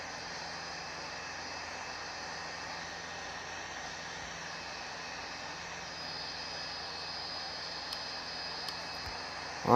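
Simulated Air India Express Boeing 737 jet engines in Real Flight Simulator on the runway, a steady, moderately quiet whine and rush of engine noise holding constant throughout, with a few faint clicks near the end.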